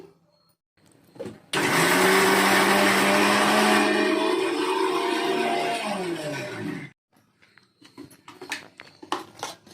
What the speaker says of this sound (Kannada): ಈಗ ಚಟ್ನಿ ಮಿಕ್ಸಿ ಮಾಡ್ಕೊಂಬಿಟ್ಟು ಇಡ್ಲಿ ರೆಡಿ ಮಾಡ್ತೀನಿ